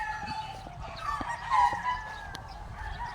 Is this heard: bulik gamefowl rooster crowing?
yes